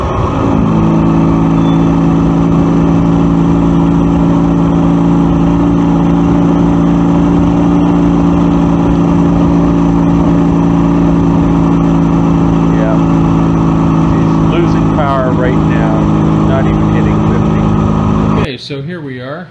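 A 2012 Ural Patrol motorcycle engine, running roughly on its Keihin CVK32 carburetor, accelerates hard and steadily through the gears, loud and close, with a rising drone that gets grumpier in the upper gears.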